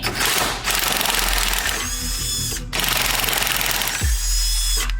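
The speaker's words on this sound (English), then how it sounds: "we're going to undo these 2 16mm bolts" Rapid rattling bursts of an impact gun loosening 16mm front control arm bolts on a BMW E46, loud and close, with short pauses between runs.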